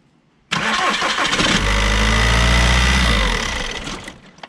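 A Volkswagen/Audi 1.9 TDI 110 hp diesel with hard-starting trouble cranks and catches, settling into a loud, deep, rough idle that rises briefly before fading off.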